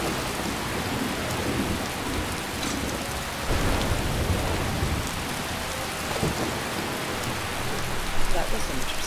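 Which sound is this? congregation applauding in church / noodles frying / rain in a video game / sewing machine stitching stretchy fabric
rain in a video game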